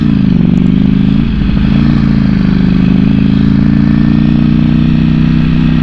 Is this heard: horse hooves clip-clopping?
no